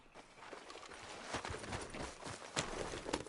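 Horse hooves clip-clop at a walking pace in Red Dead Redemption 2, a steady uneven patter of hoofbeats close by over faint outdoor ambience, with no talking.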